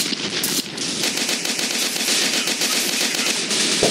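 Rapid automatic gunfire from a weapon in the Global Strike video game, a dense unbroken stream of loud shots lasting the whole stretch, no talk over it.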